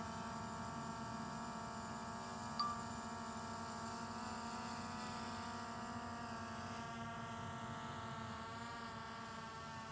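A DJI Mavic Air 2 drone hums steadily while circling overhead, a faint, even high-pitched propeller whine with little change in level, heard alone outdoors.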